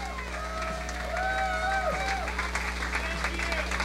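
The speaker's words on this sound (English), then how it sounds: "Let's give a round of applause for our contestants" Crowd at the Mr Chicago Leather 1991 contest applauds and cheers the contestants; steady clapping with whoops and voices mixed in over a constant low hum, moderately loud throughout.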